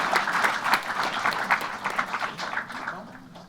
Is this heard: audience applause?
yes